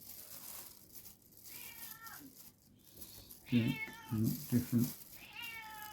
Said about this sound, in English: Oh dear, excuse the cat again.